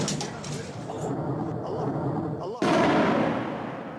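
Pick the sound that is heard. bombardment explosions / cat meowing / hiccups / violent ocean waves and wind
bombardment explosions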